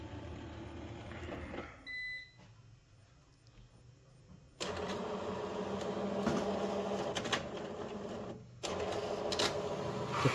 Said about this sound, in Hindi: तो मैं यहाँ पे इसको प्रेस करता हूँ, प्रिंट निकलने के लिए यहाँ पे ब्लिंक कर रहा है।